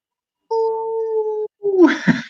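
A voice imitates a wolf howl with one long, steady wavering tone of about a second, then a short rougher vocal burst, close and clear against silence.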